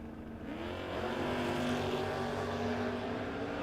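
A drag race car engine revving hard at the start line, a loud steady roar rising after a softer first moment and holding strong, heard close with no talking.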